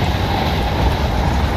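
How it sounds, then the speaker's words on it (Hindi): Steady rumbling clatter of train wheels rolling on rails, heard from beside a rear coach of a passenger train in Indian Train Simulator, loud and continuous with no voices. "ट्रैक्स का साउंड आओ आप सुनो हल्का सा।"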